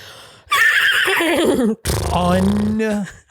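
A person's voice imitates a horse neigh in two loud, wavering whinnies, the second falling to a long, low, shaky tail.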